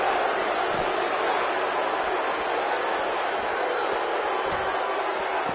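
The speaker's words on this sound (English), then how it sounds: "by the sound of this crowd, I think they're getting what they wanted" Arena crowd at a wrestling match in the WWE 2K16 video game, a dense continuous roar of cheering that stays steady and loud throughout, with no distinct voices standing out.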